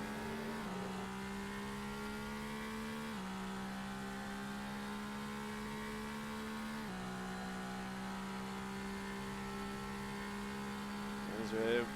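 A Super GT race car in a sim racing game at Fuji Speedway, heard from onboard with a steady engine drone at high revs that shifts pitch at each gear change, at moderate level with no talk over it.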